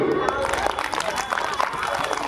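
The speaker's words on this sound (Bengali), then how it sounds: "জোরদার হাততালি" An audience at a school Republic Day function bursts into loud, continuous clapping, a dense patter of many hands close by with some crowd murmur mixed in.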